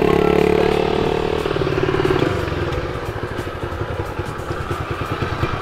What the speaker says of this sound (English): Pit bikes are a necessity at drift events.